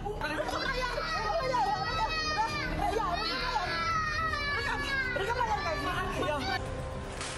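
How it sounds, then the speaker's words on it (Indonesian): A small child cries and wails during an assault streamed live, the sobbing rising and falling continuously under other voices and noise close by. "terdengar tangisan anak kecil"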